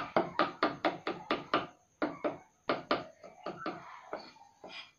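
Knife chopping spice ingredients for Balinese pepes tilapia fish, crisp close thuds on a board in quick bursts of rapid strokes with short pauses between, no talk.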